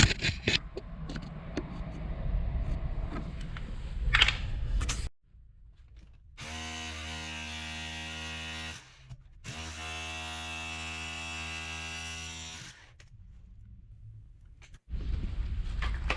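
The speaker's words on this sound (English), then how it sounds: "Just a little bit more of that rebar that we need to cut through." Power tool cutting through steel rebar on a handyman job, a steady harmonic whine running in two long bursts with a short break between, after noisy handling and clatter, with no talk.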